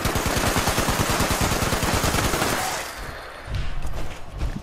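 Rapid automatic gunfire tears through a Fallout 76 fight against ghouls, a dense burst of shots that stops abruptly, followed by a brief lull and a few more scattered shots.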